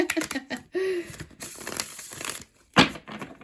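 Cards riffle and flick in quick bursts, with crisp papery crackles and a sharp slap near the end, close by.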